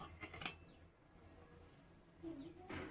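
Green chillies and coriander leaves are pounded in a mortar, giving a couple of dull knocking strikes at the start and end, fairly faint and close, with a quiet stretch in between.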